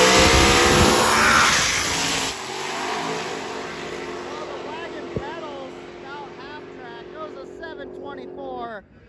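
A drag race car blasts off loud and close at Drag Week, its roaring engine filling the first two seconds before dropping to a steady drone as it pulls away, with a commentator talking over it.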